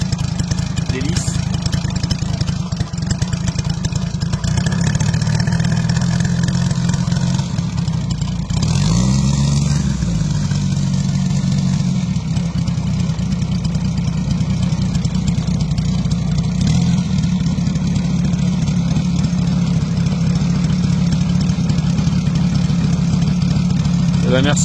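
A propeller aircraft engine drones steadily and loudly throughout, rising and falling briefly in pitch, with a mechanical hum filling the low end.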